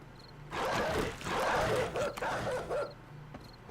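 Dogs in the survival game 7 Days to Die bark and yelp in fast, aggressive bursts while attacking, loud and close, with snarling barks bunched together and brief pauses between flurries.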